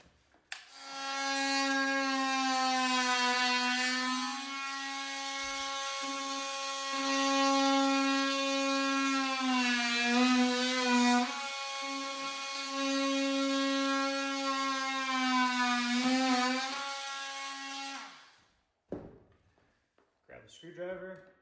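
A power saw cuts through century-old floorboards, producing a loud, steady motor whine that holds for about seventeen seconds with slight dips as the blade works, then stops, followed by a few faint knocks.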